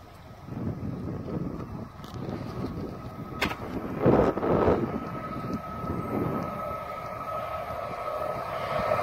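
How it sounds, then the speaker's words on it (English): Passenger train 2K60, Peterborough to Lincoln, passing a level crossing at Scopwick, Rowston and Blankney: a steady broad rumble mixed with wind buffeting the microphone, swelling to its loudest partway through, then holding at a fairly loud level. "It is the 2 kilo 60 from Peterborough to Lincoln."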